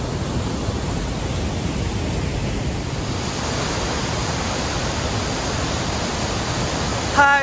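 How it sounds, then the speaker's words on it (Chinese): Rhine Falls in Switzerland roars as a dense, unbroken wash of falling water, loud and constant throughout, with a faint brief tone just at the end. "我在瑞士的莱茵瀑布，这个还只是半个瀑布，那边还有一半。"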